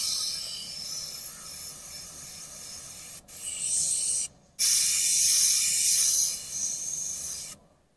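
An airbrush sprays paint through a stencil onto a shirt, giving close, loud bursts of airy hiss that stop briefly twice and then cut off near the end.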